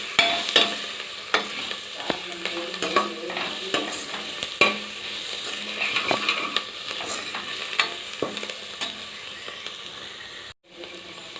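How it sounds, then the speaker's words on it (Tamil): Coriander leaves and mint sautéing in a pan for Tamil coconut milk rice, with a steady sizzle broken by repeated scraping stirs and knocks of a spoon against the pan, close and fairly loud throughout. "கொத்தமல்லி இலை, புதினா, இதுவும் சேர்த்து நல்லா வதக்கிக்கலாம்"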